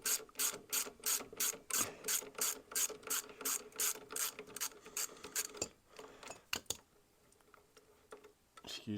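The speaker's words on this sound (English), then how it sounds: "Excuse my use of an adjustable spanner on such an old machine." An adjustable spanner ratchets a fitting loose on an old machine, giving a fast, steady run of crisp mechanical clicks up close that slows and breaks into a few scattered ticks near the end.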